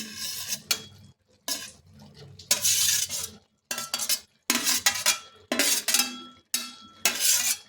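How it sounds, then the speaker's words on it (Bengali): A spatula scrapes and stirs fried vegetables and soybean chunks through vegetable pulao in a pot, in repeated short scraping bursts separated by brief pauses, close and fairly loud, with no talking. "ভেজে রাখা সবজি, সোয়াবিন সব একসাথে ভালোভাবে মিশিয়ে নিচ্ছি"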